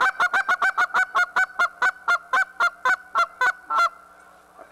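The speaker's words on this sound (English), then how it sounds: "I'd probably use it like the two goose call with two clucks." A handheld goose call is blown in a fast, even run of about fifteen sharp honks and clucks, loud and close, with no voices, ending in a short trailing tone.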